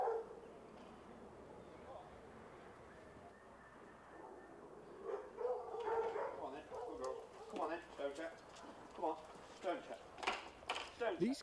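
Foxhounds at purpose-built hunt kennels in the English countryside bark, yip and whimper in an irregular chorus, faint at first and growing busier, somewhat distant.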